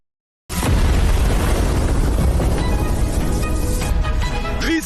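A crystal device, overloaded beyond its limit, blows up with a sudden loud boom that turns into a sustained roaring, crackling blast filling the rest of the moment after a brief silence.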